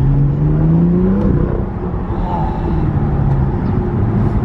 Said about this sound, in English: The thrum is the reason why I bought the car